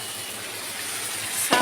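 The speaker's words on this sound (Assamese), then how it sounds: "এতিয়া পানী এড কৰি দিম" Steady sizzling in a hot frying pan of hog plum and potatoes for a sour fish curry, ending in a sharp, loud hiss as water is poured in.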